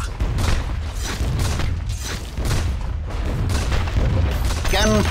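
Sniper's rifle fires in DotA 2, a string of loud booming shots in steady succession over low rumbling battle noise, with a voice speaking briefly near the end.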